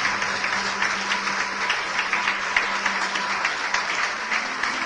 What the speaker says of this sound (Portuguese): Vamos aplaudir mais o Senhor Jesus por cada vida que está chegando.